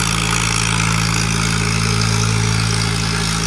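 A sand-carrying boat engine drones on the water, a loud, constant low hum with a steady tone and no pauses, heard close and alone.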